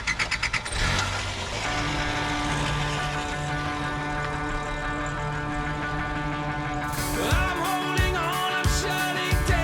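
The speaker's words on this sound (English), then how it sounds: "So I fired up Felicity and we hit the road" A car engine cranks and catches at the start, then settles into a steady idle and running drone, close and fairly loud, with some handling noise near the end.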